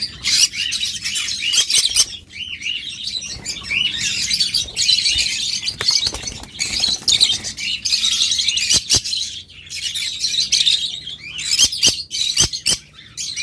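A bonded pair of red-faced lovebirds chirps and squawks nonstop, shrill overlapping calls close by with sharp clicks scattered throughout.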